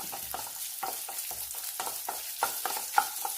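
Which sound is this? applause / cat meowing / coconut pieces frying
coconut pieces frying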